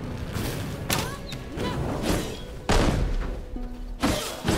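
Grenade blasts in V Rising, several sharp thuds and booms spread across a few seconds, moderately loud, with a voice reacting in between.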